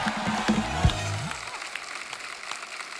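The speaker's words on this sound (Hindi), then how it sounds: "जोरदार तालियां हो जाए हमारे मेहमानों के लिए।" A TV comedy studio audience claps for arriving guests, a moderate spread of applause that continues steadily, at first mixed with a musical tone and a falling swoop effect, then fading to lighter clapping.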